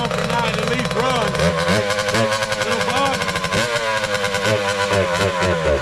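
A 2003 Kawasaki KX60 mini motocross bike runs rough after sitting a long time, its small two-stroke engine buzzing loud and close with uneven revs, while someone talks over it.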